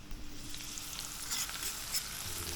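Beef sizzles and fries in a pot for Jamaican country cooking, with a steady close crackle, occasional stirring scrapes and small bursts of spattering.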